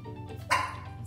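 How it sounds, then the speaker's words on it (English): A dog gives a single short bark close by, a brief loud burst standing out against a steady indoor background hum. "Stop barking!"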